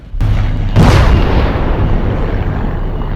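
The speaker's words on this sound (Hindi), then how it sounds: "चारों ओर गोलियां चल रही है, बम फट रहे हैं।" A sharp blast followed by a heavier booming explosion in a wartime battle scene with gunfire, its rumble rolling on loudly and steadily afterward.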